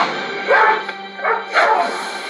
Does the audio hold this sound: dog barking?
yes